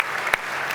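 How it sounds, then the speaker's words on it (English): Applause from an audience honoring America's Cup sailors at an event presentation, a steady broadband wash of clapping lasting under a second, fairly close, with no talk over it. "Please give them a huge round of applause."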